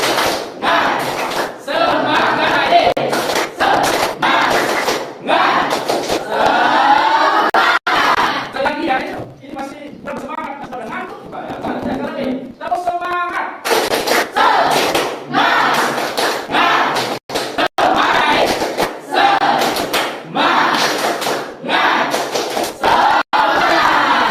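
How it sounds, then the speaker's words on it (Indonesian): A junior high classroom group performs a rhythmic spirit-clap chant, loud sharp bursts of clapping in patterned beats mixed with shouted voices, with a short quieter stretch in the middle before the claps resume. "Tepuk semangat bareng ya."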